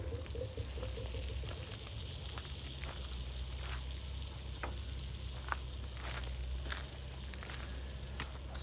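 Butter sizzles in a pan over a campfire with mushrooms, a steady crackling fry with scattered sharp pops throughout, close and fairly quiet.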